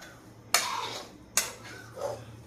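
Tender tamarind leaves going into a stone mortar for chutney, with two sharp hard knocks about a second apart and a softer clatter afterward, close and quiet.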